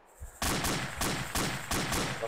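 Loud, close gunfire in the military simulator ArmA 2 ACE, a quiet lead-in then a run of regularly spaced heavy shots or short bursts with sharp cracks.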